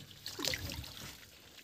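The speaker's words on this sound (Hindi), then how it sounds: "ये चल रहा है पानी।" Water drains steadily out of a container of chickpeas being cleaned of stones and grit, making a faint, continuous trickle with a brief louder splash near the start.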